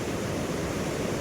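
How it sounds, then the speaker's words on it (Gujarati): Two rivers meet and flow together along the Madhyamaheshwar trail in the Himalayas, a steady, dense rush of water filling the whole moment at a constant loudness, with no voices. "તો અહીંયા બે નદીનો સંગમ કયો છે અને બતાવું તમને."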